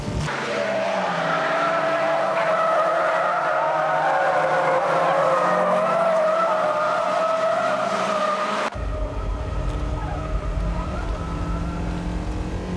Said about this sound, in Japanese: ブレーキが ロックが激しいねこれは。